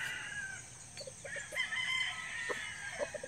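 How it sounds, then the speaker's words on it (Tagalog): A rooster crows and hens cluck nearby over steady outdoor background noise, with short calls scattered through the clip. "Sinusundan ako ng manok."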